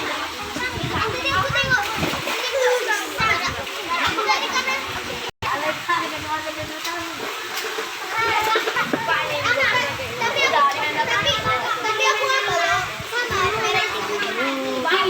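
Children splash and shout while swimming in a cool pool, lively close splashes and playful kid voices nearly continuous, with adult talk mixed in.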